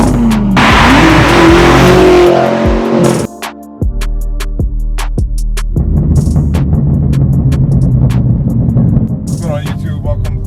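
A manual BMW M6 Gran Coupe with a straight-piped exhaust roars loudly in a hard rev, then drops to a rumbling idle with crackles, close by, with people talking briefly over it.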